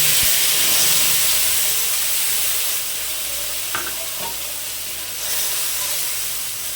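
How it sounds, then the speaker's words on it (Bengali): A ground paste of poppy seed, mustard and ginger fries loudly in a pan for sukto, its continuous close sizzle and hiss broken by occasional scrapes of a stirring spoon. "ভালো করে মশলাটাকে কষে নেবো যতক্ষণ না সেই সর্ষের কাঁচা গন্ধটা বেরাবে"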